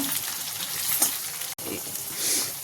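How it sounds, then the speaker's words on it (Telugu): Dried red chillies fry in hot oil in a pan, a steady close sizzle with crackling bursts and a brief stir, no talking. "కొంచెం ఒక 4 ఏమో ఎండుమిరపకాయలు వేస్తున్నా. ఇవి కూడా ఇలాగా ఫ్రై చేద్దాం."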